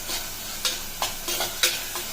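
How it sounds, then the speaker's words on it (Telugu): Two small tomatoes frying in masala for a prawn curry: a soft, quiet sizzle with several sharp scraping stirs of a spoon against the pan spaced through the moment. "దీంట్లో కొంచెం నేను టమోటా, ఒక 2 చిన్న టమోటాలు తీసేసుకున్నాను, అవి వేసుకుంటున్నాను."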